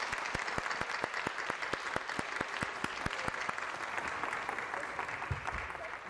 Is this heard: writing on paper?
no